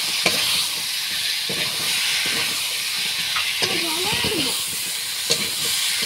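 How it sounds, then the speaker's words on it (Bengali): Chopped potatoes tipped into hot oil in a pan while cooking a Bengali shol (snakehead) fish dhoka, giving a steady broadband sizzle and hiss with a few stirring clatters, close and continuous throughout. "তো কেটে রাখা আলুগুলো দিয়ে দেবো"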